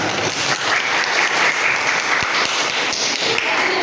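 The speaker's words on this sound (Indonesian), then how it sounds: "Tepuk tangannya dulu dong." An audience applauds after a speaker finishes during an Indonesian simulation-game practice session, a dense, steady wash of many hands clapping close by for several seconds, with no talking over it.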